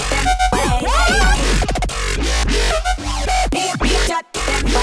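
Soloed vocal line and heavy bass drop from an electronic remix, loud and dense, with pitched vocal slides over a sustained low-end bass that briefly cuts out near the end.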